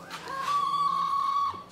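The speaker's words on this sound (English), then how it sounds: "the chicken wants to mow the lawn" A chicken indoors at a tropical self-sufficient property gives a single drawn-out, tonal cluck or squawk lasting over a second, close and fairly loud, with no talk over it.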